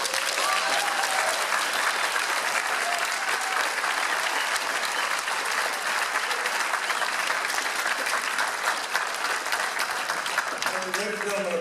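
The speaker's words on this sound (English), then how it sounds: "a big round of applause" A crowd at a Hawaii Medical Association event applauds its new president, steady dense clapping that fills the whole stretch at an even level, broad and continuous with no pauses.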